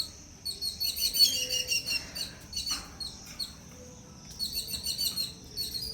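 Birds chirp and twitter near an outdoor vegetable garden with tomato plants, in quick repeated bursts of high song separated by short quiet gaps, fairly close and alone.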